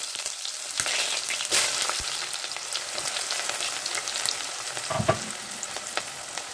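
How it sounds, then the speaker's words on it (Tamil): Onions sautéing in hot oil for a tamarind curry with drumstick and potato, a continuous crackling sizzle with scattered pops and occasional stirring scrapes, close up and without talk. "வெங்காயத்தை நல்லா பொன்னிறமாக வர வரைக்கும் வதக்கிக்கணும்"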